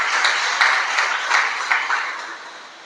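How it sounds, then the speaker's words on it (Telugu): A church congregation at a Sunday service claps to praise God, a loud burst of crowd applause that gradually fades out over a few seconds. "ఒకసారి చప్పట్లు కొట్టి దేవుని స్తుతిస్తారా?"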